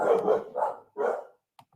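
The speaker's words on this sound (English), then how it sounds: "Damn, the dog's going on." A dog barks three times in quick succession, loud and close, followed by a short faint yip, with no talk over it.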